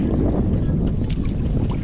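Strong northeast monsoon wind (amihan) at sea on a small fishing boat: a loud, steady roar of gusting air buffeting the microphone, with the wash of water beneath it and no pauses.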